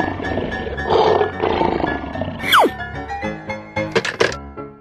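A lion roars loudly and close, one rough, heavy roar with thumps and deep grunts after it, among other animal sounds and with no talk.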